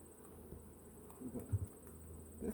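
Honey bees buzzing at a backyard hive, a faint steady drone close by with a few soft handling knocks and bumps, no talk.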